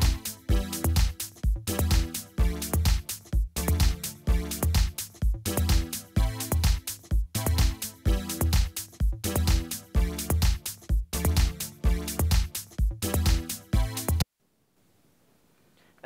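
A looping synthesizer chord progression plays in pulsing rhythmic bursts, loud and close, before cutting off to silence at the end.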